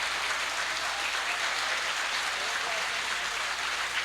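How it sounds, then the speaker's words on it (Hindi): A crowd at a mushaira poetry recital in Jeddah applauds, a steady, even roar of many hands clapping with no letup, moderately loud and heard from within the hall. "भाई भरपूर तालियां।"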